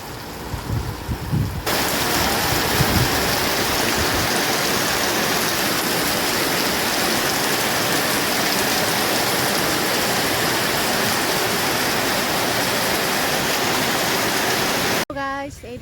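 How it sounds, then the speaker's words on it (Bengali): Heavy rain pours steadily outside, a dense, loud, unbroken wash of water that holds for most of the stretch, with a brief break near the start and a short voice at the very end. "এত বৃষ্টি হয়েছে সকাল থেকে, রাতে রাতে তো হয়েছে, সকাল থেকে এত বৃষ্টি হয়েছে"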